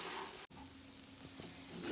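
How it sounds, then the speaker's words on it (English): Chicken and rice sizzle in a pot for Guyanese cook-up rice, a steady close frying hiss broken by a brief stir or scrape. "So you can hear that sizzling sound"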